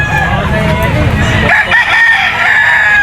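A bull stag gamecock, yellow-legged Talisay bloodline, crows at a bustling pet market, its call rising over a dense crowd din with several other fowl calls layered nearby.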